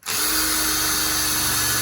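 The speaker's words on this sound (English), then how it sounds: "Just drilling the feather plate." A power drill bores holes through the feather plate of a homemade Whizbang tub chicken plucker built partly from scrap, giving a close, loud, steady whine that runs unbroken with no talking.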